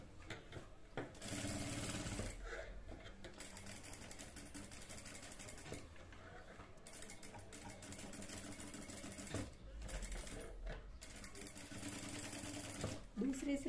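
A sewing machine stitches a hem design on a salwar in rapid mechanical bursts with brief pauses, while someone talks over the whirring.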